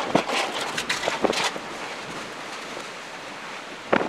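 Strong wind from Hurricane Michael roars steadily against the microphone as a broad rushing wash, with a few sharper gusts and bumps, heard alone without talk.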